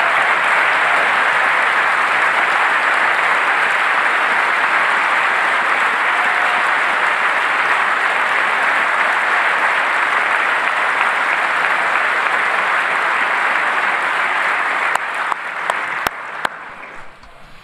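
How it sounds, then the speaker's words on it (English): Sustained applause from a large audience at a State of the Union address, a dense wash of clapping that runs loud and unbroken, then thins into scattered claps near the end. "I love how he claps for himself."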